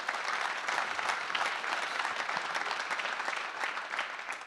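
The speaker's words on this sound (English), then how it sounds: "ladies and gentlemen, let's give him a round of applause" Dense, steady applause fills a theatre audience at the Folly Theatre, heard close and continuous without a break.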